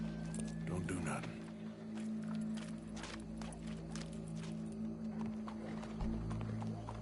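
Steady horse hoofbeats clop along in the video game Red Dead Redemption 2, mixed with a low droning hum and background voices throughout.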